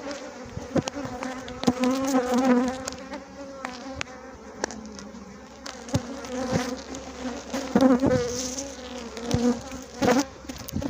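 Honeybees from a weak colony buzzing around an opened hive during an inspection, a close, wavering hum with insects darting past the ear in uneven swells.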